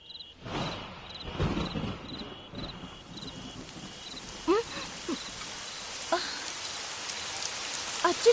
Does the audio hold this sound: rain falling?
yes